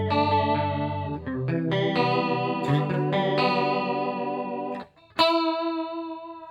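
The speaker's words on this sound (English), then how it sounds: "Now let's listen to the highest chorus level over here." Electric guitar through a Joyo DC15S practice amp with its chorus effect at the highest setting, giving sustained chords and notes with a wobbling, rotary-like shimmer, clear and close with no talking.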